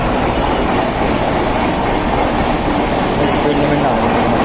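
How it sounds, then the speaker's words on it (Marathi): A fast local train rushes past close by, its loud, steady rumble and wheel clatter filling the whole stretch without a break. "फास्ट लोकल पण कॅप्चर झाली."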